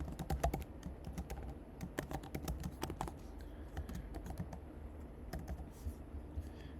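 Someone types code for a React event handler on a computer keyboard, a close, steady run of quick, irregular key clicks with brief pauses and a faint background hiss.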